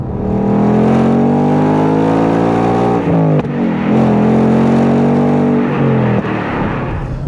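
A 2023 Ford Mustang Mach 1 with a manual gearbox drones steadily and loudly while driving, recorded from the rear, with brief dips as gears shift around the middle, then the revs climb again.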